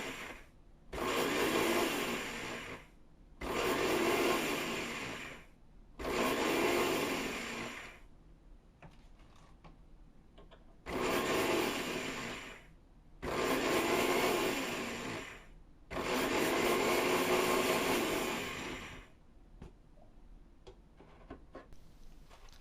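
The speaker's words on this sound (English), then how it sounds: "Anise seeds are easy to powder, and since we are making a coarse powder, this should be achieved in 1 or 2 pulses in the grinder." Anise seeds powdered coarsely in an Indian-style electric spice grinder: six loud, close motor bursts of about two seconds each, separated by short pauses with faint clicks and handling sounds.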